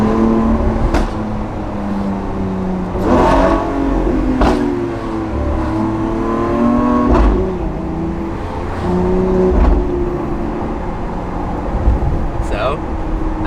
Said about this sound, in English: Just hear that backfire.